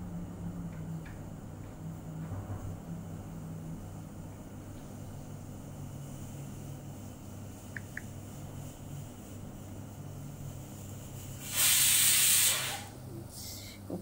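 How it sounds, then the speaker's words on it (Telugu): A home pressure cooker lets off a loud, rushing burst of steam for about two seconds, followed by a shorter second puff. The room is otherwise quiet, with a faint background hum. "కుక్కర్ సౌండ్ వినబడుతుంది."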